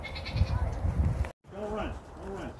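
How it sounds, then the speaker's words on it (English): Goats bleat at a farm with sheep and chickens around, a few wavering cries close by in the second half, following a brief cut, with voices talking underneath. "There's goats and sheep and chickens."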